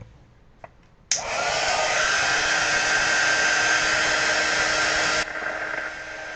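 A hair dryer blows steadily on a watercolor painting, switching on abruptly with a loud, continuous whoosh and high whine that holds for about four seconds before dropping slightly in level.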